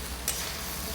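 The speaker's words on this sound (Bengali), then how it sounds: "ভাত আর ডিমটা একই সাথে ভাজা হবে" Leftover rice and raw egg fry together in a pan, a soft continuous sizzle broken by one quick spatula tap.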